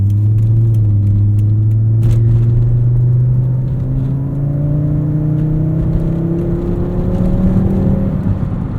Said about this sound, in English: I love this IPD turboback exhaust. It's a little bit drony, but it sounds good and it really wakes up the car.